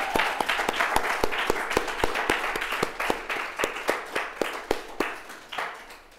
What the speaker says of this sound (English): Can we get a round of applause for everybody who's been here